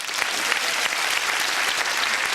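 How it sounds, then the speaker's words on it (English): Loud, sustained applause from an audience, many hands clapping at once in a steady, dense wash. "And a round of applause for Ruth Duggan."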